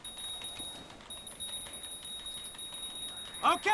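A bicycle bell in the video game GTA 5 gives a quick bright ring near the end, rising over a low, steady game soundscape.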